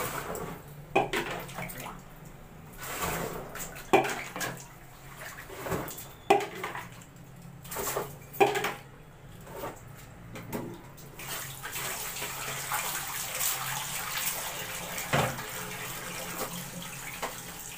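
Water splashing and pouring in irregular bursts while rinsing white laundry by hand, with sloshing and handling noises between them, close and moderately loud, no voices.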